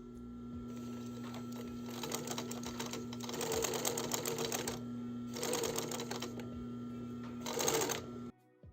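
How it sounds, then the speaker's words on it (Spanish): A PFAFF 260 sewing machine stitching zigzag, its steady mechanical hum broken by several bursts of rapid rattling needle action, close and even, with no talk over it. "Al avanzar y accionar la palanca de mando, la máquina hará zigzag."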